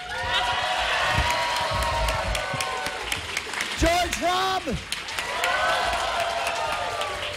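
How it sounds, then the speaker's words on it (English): A large convention crowd at Dragon*Con breaks into loud, sustained applause with cheers and whoops, while an announcer's amplified voice speaks over the noise. "let's have a huge round of applause for Scott Sigler"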